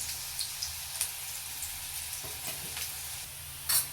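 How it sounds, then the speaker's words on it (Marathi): Finely chopped onion sautéing in a pan for pav bhaji, a steady soft sizzle of frying with occasional sharper crackles and pops, close and continuous with no talk. "आणि हा कांदा आता लाल होईपर्यंत आपल्याला चांगला परतून घ्यायचा"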